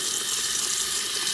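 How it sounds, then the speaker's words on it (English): Water pours steadily from a kitchen or bathroom faucet to rinse harmonica windsavers, a continuous close hiss and splash with no pauses and no voices. "So turn the faucet on, make sure the water's not too hot."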